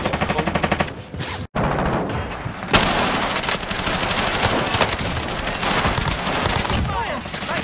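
Rapid bursts of automatic gunfire in a military video game shooter, loud and sustained with one short gap, while players call out to each other over the shots.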